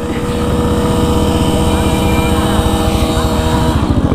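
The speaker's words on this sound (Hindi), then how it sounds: "इसका इंजन फट जाएगा भाई, इंजन फट जाएगा।" A Royal Enfield Bullet motorcycle engine revs hard and continuously at a street race, loud and close with a rough, rapid thump, while a voice talks over it.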